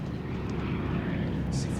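C-47 transport planes drone overhead in a World War II film battle scene, a dense continuous propeller rumble that fills the whole stretch, with voices talking over it.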